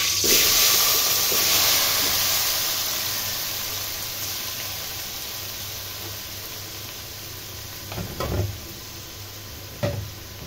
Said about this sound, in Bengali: তেলটা গরম হয়ে গেছে, আমি এখন আমগুলো ঢেলে দিচ্ছি।